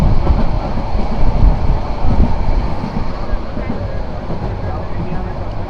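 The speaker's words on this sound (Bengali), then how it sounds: "এই যে ট্রেন বিশাল বাঁক দিয়ে যাচ্ছে" A passenger train near Laksam, Bangladesh, rounds a big curve with a loud, steady rumble and rattle of rolling wagons that eases slightly toward the end.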